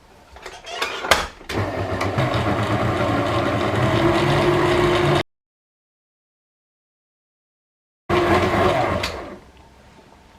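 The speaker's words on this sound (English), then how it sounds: "Chuck it back in the mixer." A motorized food mixer whirs steadily for several seconds while mixing bread dough with chili, stops for a few seconds, then starts again briefly before winding down.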